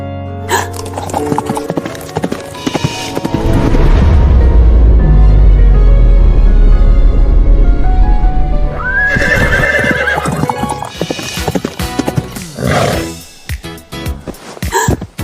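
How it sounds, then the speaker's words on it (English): A horse being ridden gives loud, close clip-clopping hooves with repeated neighs and whinnies, and a long blowing snort in the middle; no speech. "Riding a horse for the first time feels fun."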